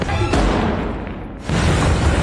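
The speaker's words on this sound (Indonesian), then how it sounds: "sebuah ledakan besar tiba-tiba menghantam area sekitar mereka" Large explosion in a film: a sharp booming blast hits, decays into a quieter rumble, then a second loud burst of debris and roar follows, with no talk.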